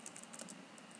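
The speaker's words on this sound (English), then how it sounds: "I will start typing teaching" Steady, fast typing on a computer keyboard, a run of close, light key clicks that continues without pause and with no voices.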